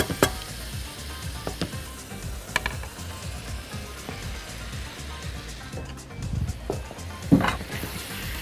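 Shrimp hit a hot pan with tomato and fry with a continuous crackling sizzle, interrupted by spatula knocks and stirring scrapes, plus a louder splatter burst near the end.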